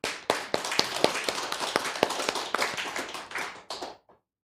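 Church congregation applauding during a revival service, a burst of brisk, dense clapping from many hands that carries steadily for about four seconds and then stops abruptly.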